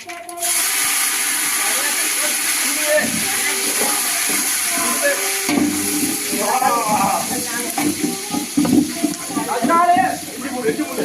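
Onions drop into hot oil in a pan and set off a hissing, steamy sizzle, while several people talk loudly over it close by.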